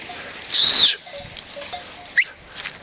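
Lambs on a farm give a loud, high bleat, followed by quieter rustling and a short second cry, heard close on a sunny day after overcast weather.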